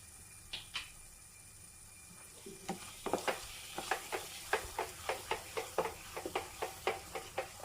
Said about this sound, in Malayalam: എന്നിട്ട് നല്ലതുപോലെ ഇളക്കി കൊടുക്കും.